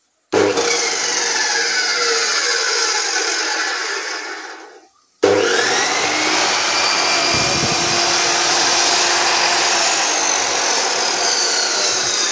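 A Drowing brand cut-off machine for cutting rod, angle and flat bar spins up with a loud, steady motor whine, cuts out briefly near five seconds, then restarts and runs continuously at full speed.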